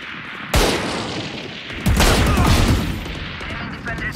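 Two loud, close gunshots in Valorant, one sharp crack followed after a pause by a heavier booming shot with a ringing tail, amid quieter game sounds and light voices.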